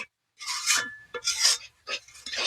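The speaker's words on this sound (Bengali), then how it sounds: "এবার ভালোভাবে একটু কষিয়ে নেব তেল ছাড়া পর্যন্ত" Spice paste is stir-fried in oil for a bottle gourd curry, heard as a series of close, rasping scrapes of a spatula against the pan, coming in about four strokes with short pauses between.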